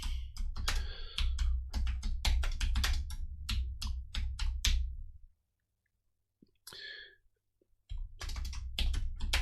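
Rapid clicking of a computer keyboard while a note is typed, a steady run of key taps that pauses for a couple of seconds with a few isolated clicks before the typing resumes.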